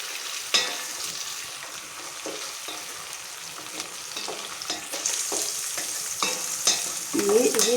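Coarsely crushed garlic and ginger fry in a pan with a continuous sizzle, and scattered stirring clinks and scrapes come through near the end. No one speaks.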